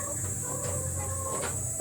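Six-month-old Rhode Island breeder hens cluck in a cage, short soft clucks repeating over a steady background hum, fairly close and with no voices.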